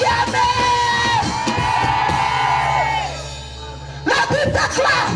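A church crowd at a Christian crusade shouts and whoops together, loud and sustained for several seconds, drops briefly, then surges again with another burst of voices.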